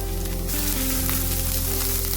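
Chopped onions frying in soybean oil in a pan, giving a steady, dense sizzle that runs throughout with a faint low hum underneath.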